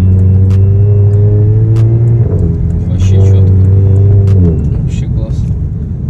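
A VW Golf 1.4 Turbo with an aftermarket exhaust revs twice in loud, deep bursts, with sharp crackling pops in between and a rumbling idle afterward, heard up close.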